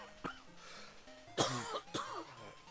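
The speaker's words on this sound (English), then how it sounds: "Sorry, I had a little cough further away there." A few short coughs and throat-clearing sounds from a person a little way from the microphone, three separate bursts spread out over a quiet background.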